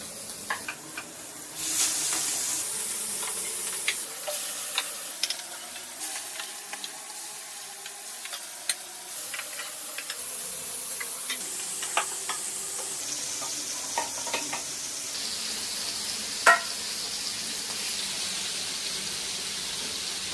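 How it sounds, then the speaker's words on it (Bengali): Fish dropped into hot oil in a home kitchen, a constant close sizzle and hiss broken by scattered sharp pops and utensil ticks, rising as the pieces go in, with no speech. "একটু তেলটা গরম হয়ে গেছে অনেকটাই, এবারে মাছগুলোকে সব এর মধ্যে দিয়ে দেব"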